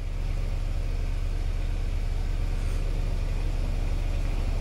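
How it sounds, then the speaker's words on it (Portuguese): A car engine idles after being started during a diagnostic check with a Bosch KTS590 scan tool, giving a steady, continuous low rumble with no talk. "Eu vou ligar o carro. Aqui, ó. Carro ligado."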